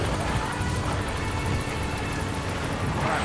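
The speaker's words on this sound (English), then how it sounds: "Alright, chopper's leaving." A helicopter flies away in Metal Gear Solid V, giving a continuous whirring rotor and engine drone with a faint rapid chop, loud and steady for the whole stretch, with no speech.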